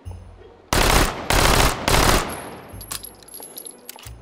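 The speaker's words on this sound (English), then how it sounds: "this is basically the uh, Beretta M12 um, with a different housing, uh, faster rate of fire" A Beretta M12 submachine gun in the VR shooting game H3VR fires three loud, close full-auto bursts, each roughly half a second long, followed by quieter handling clicks.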